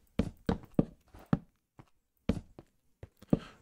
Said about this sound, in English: Sounds like someone's walking.